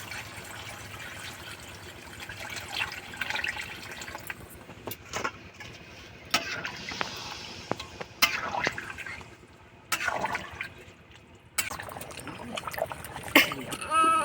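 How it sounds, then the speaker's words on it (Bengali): Water splashes and trickles into a pan of browned chicken curry, a close, uneven pour with short bursts of splashing and brief pauses, no one speaking. "কষা হয়ে গেছে এবার আমি একটু জল দিয়ে দেবো"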